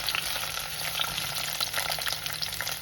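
Shallots sauté in oil for a sardine dish, a steady, fairly quiet close sizzle with light crackles and stirring scrapes throughout.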